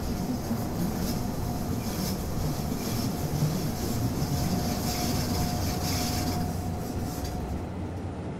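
Interior of a moving passenger train on a summer eastbound run, a steady loud rumble and rolling hum filling the whole stretch with no pauses.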